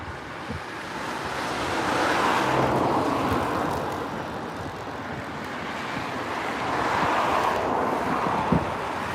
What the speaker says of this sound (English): I do apologise for all the car traffic